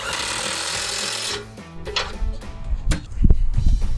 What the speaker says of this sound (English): Grab your impact with the 21 still attached.